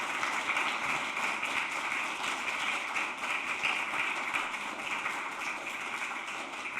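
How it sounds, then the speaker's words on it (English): Steady applause from a large crowd at a university student awards ceremony, a dense continuous patter of many hands clapping at even volume throughout. "applause for all the awardees."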